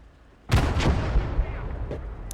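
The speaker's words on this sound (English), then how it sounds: "Maybe one of the things on fire exploded?" In a war video game, a burning object explodes in a sudden loud blast that rolls into a long rumbling decay, with a fainter second pop shortly after.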